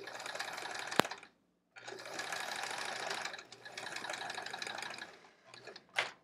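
A sewing machine stitching quilt pieces runs in close, steady bursts of rapid, even whirring, stopping briefly between runs, with a sharp click early on and no talk.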